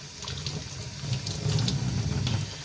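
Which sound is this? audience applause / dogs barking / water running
water running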